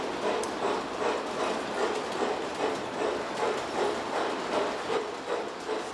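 A model train runs on a home layout in a Bel Air estate, giving a steady rhythmic clatter of wheels on track that stays close and even throughout.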